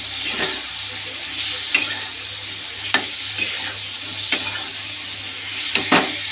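Cumin, turmeric and green chilies fry in oil in a pan with a continuous crackling sizzle, while a spatula stirs and scrapes in regular strokes every second or so, close and clear.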